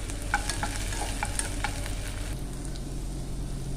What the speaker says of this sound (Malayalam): ഈ ജിഞ്ചർ ഗാർലിക് പേസ്റ്റ് ഇട്ടിട്ട് നല്ലപോലെ ഇളക്കാം